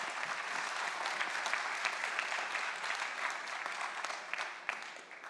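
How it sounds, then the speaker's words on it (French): An audience at a Paris research talk applauds its donors with steady, dense clapping that runs unbroken throughout, fairly close and even in loudness, with no voices standing out. "Donc on peut les applaudir très fort."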